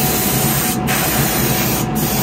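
Paint spraying in a steady, loud hiss from a spray gun during a spray session, broken by two brief pauses, with no voices.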